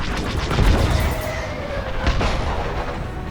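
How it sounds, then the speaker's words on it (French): Blaster fire crackles in a Star Wars Squadrons space dogfight, a steady loud barrage of rapid shots with heavier thumps around the start and again near the two-second mark, no voices over it. "On tire dessus."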